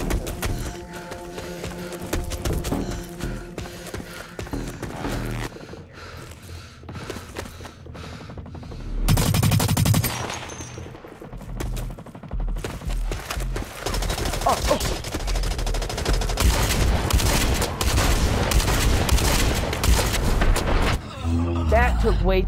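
Sustained bursts of automatic gunfire and booming shots fill a long Blacklight: Retribution firefight, loud and nearly continuous, with a player talking over the shooting throughout.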